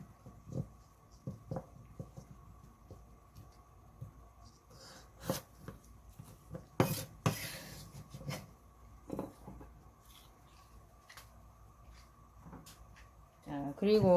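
A knife chops ingredients for braised butterfish with scattered, sharp taps on a cutting board, irregular and close, while a person talks quietly between cuts.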